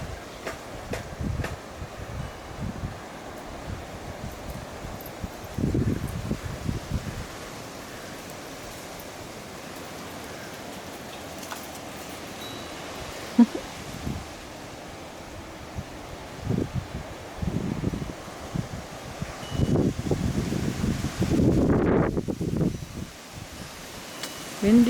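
Wind blowing outdoors on a gusty spring day in Lompoc, California: a steady low rush buffeting the microphone, with stronger gusts swelling now and then and brief bits of voices in between.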